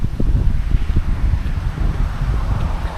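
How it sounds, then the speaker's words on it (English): Strong, gusty wind in wet weather at Innisfail, Australia buffets the microphone with a deep, rumbling roar that surges and fluctuates for the whole stretch. "it's crazy windy, it's crazy wet"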